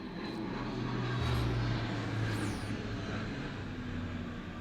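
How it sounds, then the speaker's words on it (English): A propeller airplane in Final Fantasy 14 drones overhead with a low steady engine rumble that swells and fades over a few seconds, with no voices. "It's a lot of sound from a plane right there."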